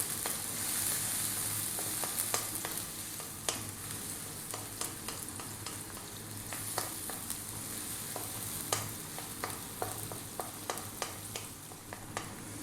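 Steady sizzle of mushroom fried rice frying on high heat, with scattered sharp clicks and scrapes of stirring throughout, no talking.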